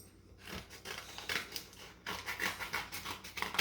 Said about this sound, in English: and then I would use my scissors